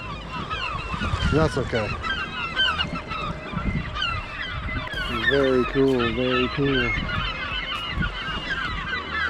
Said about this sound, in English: Oh, we've pissed off some birds.